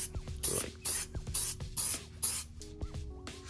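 Several short bursts of protectant spray hissing onto an SUV's interior plastic in quick succession, close by, with brief pauses between them and no talking.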